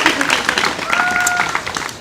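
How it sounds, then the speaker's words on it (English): A small group at a January 2025 massage-course graduation claps in a brief round of applause, a lively patter of hands with a voice briefly heard over it. "Round of applause to that"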